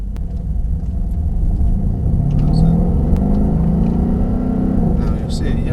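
A Mercedes-AMG SL63 drives on the Mercedes-Benz World race track, its engine a steady, close rumble that swells slightly midway, with someone talking over it throughout.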